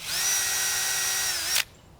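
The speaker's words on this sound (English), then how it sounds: "We start by drilling through the bark and the cork cambium" A cordless drill fitted with a 3/8 bit bores into the bark of an ash tree, giving a close, steady high whine for about a second and a half before cutting off abruptly.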